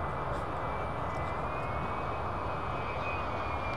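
A Boeing 737 jet airliner at Miami International Airport, a steady, loud engine roar with a faint high whine throughout.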